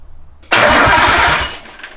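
Nissan Skyline RB20 engine cranking, the starter whirring in a quick rhythmic churn for about a second before the motor catches, loud and close.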